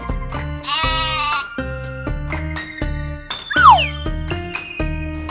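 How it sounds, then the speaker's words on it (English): A sheep bleats once in a short wavering cry over bright, plucky background music with repeating notes. "This is sheep."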